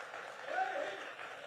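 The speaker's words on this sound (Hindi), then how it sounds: "ये हमारे लिए ताली बजा रहे हैं" Audience clapping during a Hindi interview with a film writer, a soft, steady patter of many hands heard at a distance for a short stretch.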